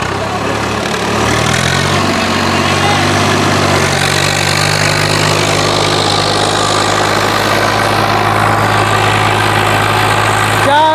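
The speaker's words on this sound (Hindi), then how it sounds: "नौ खाली का ये टिलर खूब दम भर रहा है 744" A 744 tractor pulls a nine-tine tiller through a field in a tractor competition, its engine holding a steady, loud, laboring drone that runs continuously through the clip.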